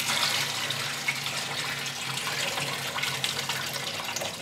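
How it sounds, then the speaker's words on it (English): Cold tap water running over cooked pasta as it is rinsed in the kitchen, a steady close rushing splash that continues evenly throughout with no talking. "you're gonna drain it and then you're gonna run it under cold water"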